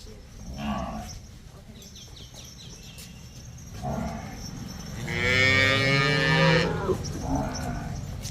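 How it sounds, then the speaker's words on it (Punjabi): A black buffalo calf and cattle moo on a farm with cows and buffaloes, giving several drawn-out lowing calls, the loudest a long close moo near the end, with faint bird sounds in the background. "ਕਾਲੀ ਵੱਛੀ ਆ ਜਿਹੜੀ"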